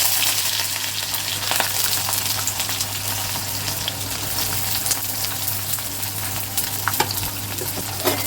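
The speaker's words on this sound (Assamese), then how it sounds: "এতিয়া দিম মই পিঁয়াজখিনি।" Onions frying in hot oil with cumin, bay leaves and green chillies in a wok, a steady close sizzle and crackle with occasional sharp pops and no talking.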